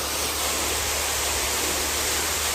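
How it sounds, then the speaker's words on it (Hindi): Fresh water gushes from a borehole on a farm in a loud, constant, hissing rush that stays unbroken from start to end and carries no voices. "बिल्कुल फ्रेश वाटर हमारे होल से आ रहा है ये पानी"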